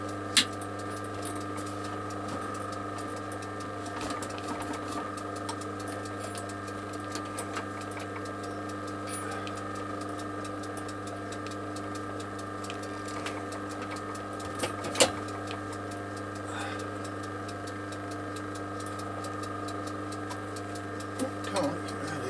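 Sewing machine stitching a leather knife sheath, a steady mechanical hum with faint ticking runs throughout, with occasional small knocks and brief talk over it.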